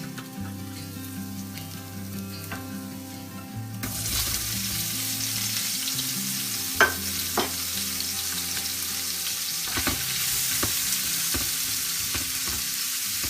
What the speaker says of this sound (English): I've reduced our heat to medium, added a little bit more oil, and now we're going to add in our onions and our garlic.